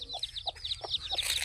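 A mother hen with her batch of eight chicks: rapid high peeping from the chicks overlaps soft low clucks from the hen, close by and continuous.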